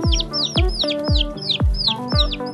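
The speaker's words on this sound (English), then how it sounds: "we gotta feed some of this to the chicks" Young chicks about a week and a half old cheep and cluck loudly and excitedly while being hand-fed, with repeated sharp rising-falling calls in quick succession, up close and with no talking.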